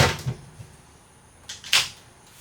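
A refrigerator door in a 2023 East to West Alta LE 1600 MRB travel trailer is handled: a soft thump and click, a pause, then a quick latch snap and rattle as it swings open, close and fairly loud.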